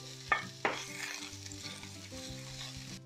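Bell pepper dropped into hot oil in a pan for bibimbap, two sharp clatters followed by a steady close sizzle and frying crackle that carries on to the end, with no voices.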